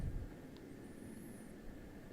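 Pilatus PC-12 turboprop engine rolling for takeoff in the MSFS 2024 flight simulator, a faint, steady engine drone with a low rumble that holds evenly throughout.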